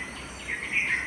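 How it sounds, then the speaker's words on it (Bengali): A myna bird chirps in short bright bursts, faint and somewhat distant against a soft background hiss, with no talking. "ঘুম থেকে উঠেই দেখতে পাচ্ছি একটা শালিক এসে কিচিরমিচির করছে"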